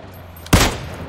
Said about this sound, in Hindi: मैं तो भाई कार 98 का शॉट्स मार रहा हूँ।